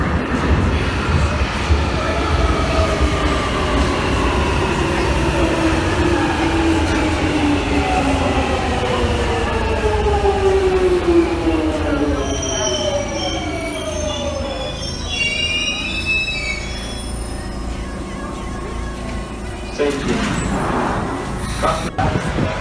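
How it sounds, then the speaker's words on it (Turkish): A London commuter train pulls into London Bridge station, its wheels squealing in loud, sliding high-pitched tones over a rumbling rail roar, with a clatter as it slows near the end. "Trenimiz de geliyor zaten."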